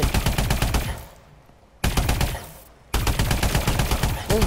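Rapid automatic gunfire from the first-person shooter Call of Duty: Advanced Warfare, loud and close, in two dense bursts broken by short lulls of quieter ambience.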